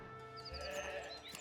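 Sheep bleating in a blocky survival building game, a couple of drawn-out nasal bleats close by over a steady ambient game soundscape, no talking.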